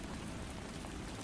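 Steady rain falls in a continuous, even hiss of dense drops with no pauses and no voices.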